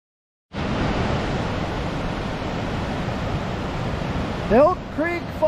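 Selway Falls on the Selway River in Idaho, a steady broadband roar of rushing falling water that begins abruptly and holds loud and constant, with a few bird chirps near the end.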